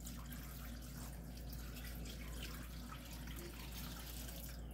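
Water pours steadily into a container of yarn set up for hand dyeing, a continuous splashing rush that stays fairly close and even from start to finish, with no voices over it.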